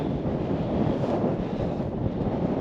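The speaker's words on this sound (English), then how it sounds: "That wind's cold." Cold wind buffets the microphone on an exposed hilltop at Mallerstang Edge in the Yorkshire Dales, a steady, loud, low roar that holds unbroken without any voices.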